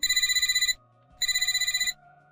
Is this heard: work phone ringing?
yes